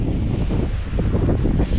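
Strong wind buffeting the microphone on a sailboat under sail bashing through ocean swells, a loud constant roar with rushing wave noise and low thumps, with no voices.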